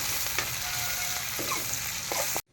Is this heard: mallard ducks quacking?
no